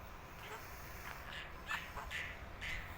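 Several honking squawks from domestic geese call out at a moderate distance, scattered over a quiet outdoor background.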